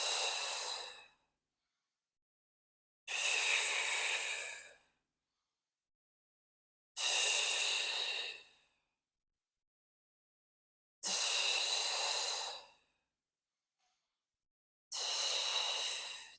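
Deep breaths during a mat Pilates exercise, four long airy breaths plus the start of a fifth, each about a second and a half long and separated by silence, close and clear with no talking.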